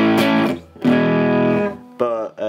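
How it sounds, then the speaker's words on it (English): Circuit-bent Behringer UC100 effects unit set to a lower level of distortion, giving loud, sustained buzzy tones with rich harmonics in three held phrases, close and bassy, with no talk. "This is a slightly lower level of distortion"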